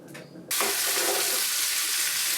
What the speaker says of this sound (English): the sizzle and smell of Sicilian savoriness saturates the space and soothes the soul